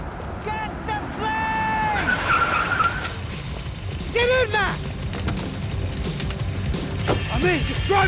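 A car tears along during a chase in the video game Max Payne 3, tires squealing and screeching through turns amid engine roar and heavy impact thuds, with voices shouting over the action.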